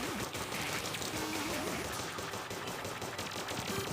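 Continuous rapid gunfire aimed at a boss in Terraria, a dense crackling stream of shots over busy game music and effects, steady and loud throughout.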